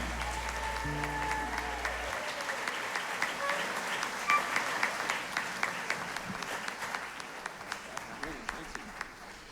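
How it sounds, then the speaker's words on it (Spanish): An audience at a tribute event applauds a performer, a sustained crowd clapping that swells and holds for several seconds, with a voice and a low musical tone at the start. "E aplauso fuerte para Oslin Trimón."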